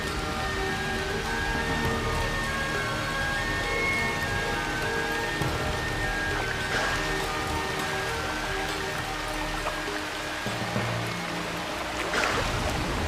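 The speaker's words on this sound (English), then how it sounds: "the monsoon continues to drench northeast India and Kaziranga with enormous quantities of rain" Heavy monsoon rain falls over Kaziranga in northeast India, a dense, steady hiss of drops pattering on surfaces and water that continues unbroken throughout.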